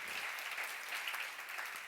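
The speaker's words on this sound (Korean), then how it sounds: "박수로 맞아주세요" A church congregation at a Korean sermon on Isaiah breaks into applause, a dense, steady patter of many hands clapping throughout, with no speech over it.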